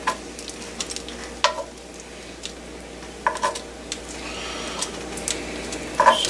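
Bacon frying in a pan for clam chowder, a steady hiss of fat with a few louder pops and scrapes over several seconds, no talking.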